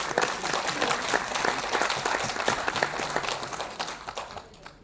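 Audience applause fills a conference hall in New Delhi, a dense steady clapping close and loud throughout, tapering slightly at the end with no talk over it.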